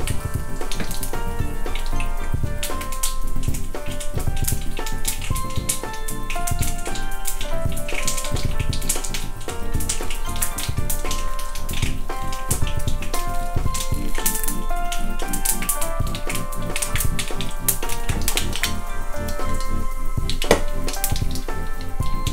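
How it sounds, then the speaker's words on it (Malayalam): Mustard seeds pop and spatter in hot oil for a Kerala pineapple pachadi, a dense, steady run of crackles and sharp ticks close by with no talking, blended with a continuous watery hiss. "കടുക് പൊട്ടി തുടങ്ങിയിട്ടുണ്ട് ഈ സമയത്ത്"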